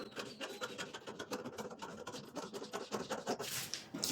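Scissors cut through a paper blouse pattern for a bra-cut saree jacket, making a continuous rasping, scratchy crunch with repeated strokes. The cutting sounds close and steady throughout, with no voices.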